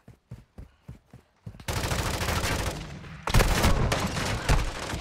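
Automatic gunfire in the Call of Duty: Modern Warfare II video game, a few separate shots at first, then sustained loud bursts of rapid fire.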